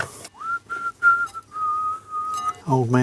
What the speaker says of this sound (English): Old man bad whistling.